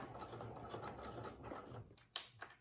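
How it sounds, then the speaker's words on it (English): A sewing machine back stitching at the start of a fabric tuck runs in a steady, quiet mechanical whir for about two seconds, then stops and gives a couple of faint clicks. "I'm going to back stitch"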